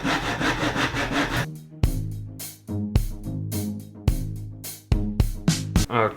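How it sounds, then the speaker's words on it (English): A hand saw cuts through small pieces of wood for chair legs, a close series of rasping strokes with a steady back-and-forth rhythm and brief pauses between them. "now I need to just cut these bits of wood where I've measured them"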